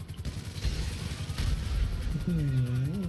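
Gunfire in GTA V Online, a rapid rattle of video-game shots and booms with a player's voice rising over the end of the burst.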